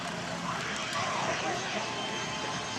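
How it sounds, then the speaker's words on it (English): A model jet aircraft flying slowly overhead whines steadily at a distance, its engine tone shifting slightly as it passes, faint and continuous. "And he's got the plane just flying slow now."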